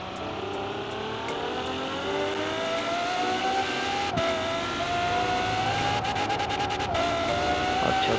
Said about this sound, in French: on se retrouve avec la F12 Berlinetta, le V12 mythique de chez Ferrari